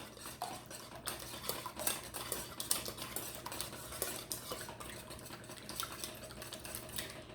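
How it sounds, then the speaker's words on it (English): Eggs whisked in a bowl with a fork or whisk, a quiet, rapid tapping and clinking that repeats steadily over a low hum, close up and with nobody speaking. "I've got some eggs over here. We're going to whisk those up."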